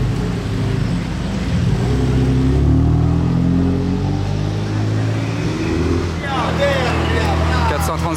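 A BMW M2 drives through Monaco during the Grand Prix weekend, giving a loud, close, steady engine rumble that holds throughout, with voices briefly audible near the end.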